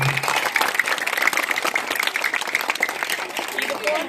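Steady clapping from a village audience fills the clip, a dense continuous patter of applause for a stage performance.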